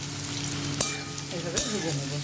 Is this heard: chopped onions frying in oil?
yes